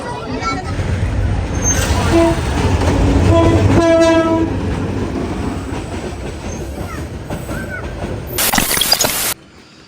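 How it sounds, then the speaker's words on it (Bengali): A train rolls past a railway level crossing in Rangpur with a loud rumble and rattling wagons, its horn blaring for a few seconds midway, with background voices and a sharp burst of noise near the end. "রেলগেটে 8টা পড়লাম, ট্রেন যাবে"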